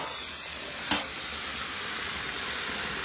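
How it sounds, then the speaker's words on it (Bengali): Chicken cooking kosha style sizzles steadily in a pan, a constant close frying hiss with one brief louder clatter or stir near the start. "চিকেন রান্না বসে গেছে, একদম কষা কষা চিকেন হবে।"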